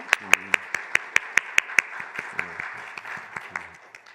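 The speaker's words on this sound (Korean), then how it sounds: "우리 다시 한번 하나님께 감사와 영광의 박수를 돌려드리겠습니다" Church congregation clapping in unison at a Korean Sunday service, a dozen sharp rhythmic claps that loosen into scattered, fading applause, with a voice sounding briefly underneath.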